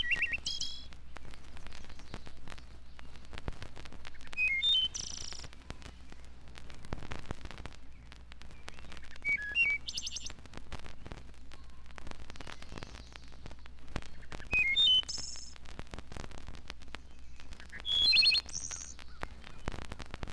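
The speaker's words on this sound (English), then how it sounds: "To show the marvelous improvisations of the thrush, the endless variety of his song" A thrush sings a varied song, short bright phrases each different from the last, repeated in bursts every few seconds against faint background hiss from an old vinyl recording.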